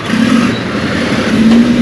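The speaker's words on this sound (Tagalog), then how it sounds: "Naipit tayo ng malalaking sasakyan." Heavy road traffic packed with large trucks, engines droning loudly and steadily close by with a low rumbling hum, no talking.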